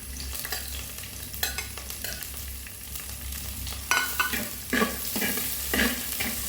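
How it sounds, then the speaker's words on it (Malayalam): Onion and green chillies fry in a pan for beetroot mezhukkupuratti, a soft steady sizzle with a low hum beneath and a few clear spoon scrapes and stirring knocks, close by, without speech. "ഇത് നന്നായിട്ടൊന്ന് ഇളക്കി കൊടുക്കുന്നുണ്ട്. ഇതൊന്ന് നന്നായി വാടി വരണം."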